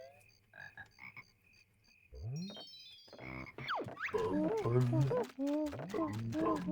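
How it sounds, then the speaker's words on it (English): Poison arrow frog croaking in Banjo-Kazooie, a series of cartoonish croaks and warbles mixed with an excited voice talking loudly over them. "Poison Arrow Frog!"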